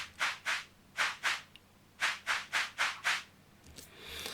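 Shaker-type percussion loop from a World South Asian, Indian and Middle Eastern kit plays bright, airy swishes in a steady pattern of paired strokes, loud and close with no voices.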